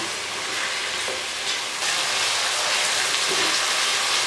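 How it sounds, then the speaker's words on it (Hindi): Chicken with potato and spinach fries uncovered in a pan, giving a steady broad sizzle and crackle that holds loud and even for a few seconds, with no talking. "दो मिनट के लिए हम इसको इसी तरह बगैर कवर किए फ्राई करते रहेंगे"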